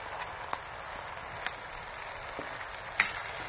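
Chicken with coriander and cumin powder stir-frying in a pan for a Patiala chicken dish, a steady soft sizzle with a few sharp clicks of a spoon against the pan.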